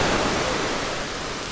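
Sea waves break on a shore, a dense, loud, steady roar of surf filling the whole moment and easing slightly toward the end, with no voices over it.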